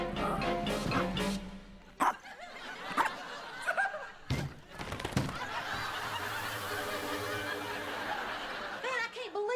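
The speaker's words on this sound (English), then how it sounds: "Man, I can't believe you were afraid of that little bitty dog." A small dog barks in several sharp bursts amid a sitcom scene, with people talking and an audience laughing around the barks.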